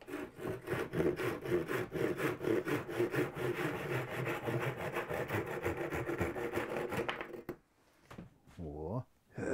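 Handsaw cutting through a log wall to make a doorway in a log house, a loud close rhythmic back-and-forth rasp of strokes for about seven seconds, then stopping, with a voice briefly heard afterward.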